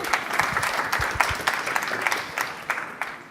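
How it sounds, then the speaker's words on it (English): An audience at a PyData conference talk applauds a speaker, a dense, steady round of clapping from a mid-sized crowd throughout. "I'd like to give a round of applause for Saul Diez-Guerra"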